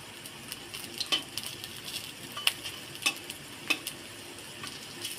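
Bitter gourd fritters sizzle steadily in hot oil in a pan while the pieces are flipped over, with scattered sharp scrapes and taps of a utensil against the pan, close and fairly quiet.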